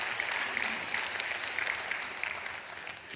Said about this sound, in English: It's okay to clap at church.